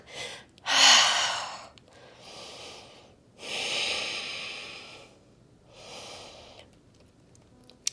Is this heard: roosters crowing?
no